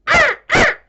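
A human voice imitates crows cawing, giving two loud, close, drawn-out caws in quick succession.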